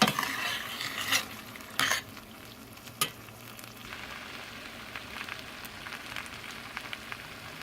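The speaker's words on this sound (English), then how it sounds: "So we've added in our rice, and we just combined it, stirred it to combine." Rice stirred into a pan with tomato paste and smoked sausage, a few close scraping clatters of a spoon against the pan over a quiet, continuous sizzle.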